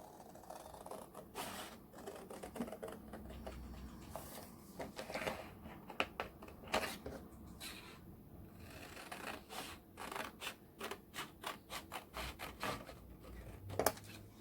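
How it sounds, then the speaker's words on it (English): Scissors cutting through a large piece of craft card, a series of quiet irregular snips and crunching clicks with small pauses between cuts, close and faint, with no speech. "So I'm going to cut with scissors just in between these items."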